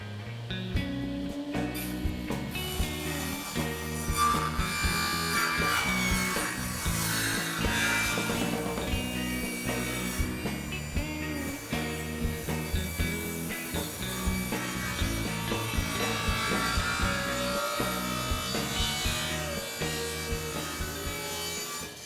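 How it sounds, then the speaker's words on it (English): A table saw rips a wooden front board for a Swedish-style corner cabinet at a 45-degree angle, a loud, sustained whining cut with rasping wood texture that runs almost the whole time without speech. "I'm just going to rip the other front board on a 45-degree angle"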